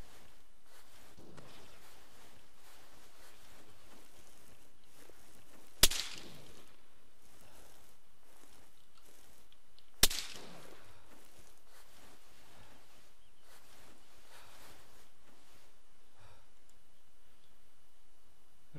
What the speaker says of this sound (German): Wo kommt der Beschuss?